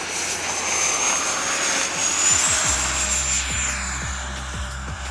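A Freewing B-2 Spirit RC jet with twin 70mm electric ducted fans whines loudly during its takeoff run, a steady high-pitched rushing scream with a rising tone, and rhythmic ticking thumps from the runway join in partway through.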